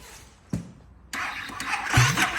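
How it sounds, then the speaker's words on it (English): A KTM motorcycle with worn brushes in its starter motor gives a short click, then a brief whirring crank that fails to catch, close and moderately loud. "if you've got a KTM and it doesn't want to start."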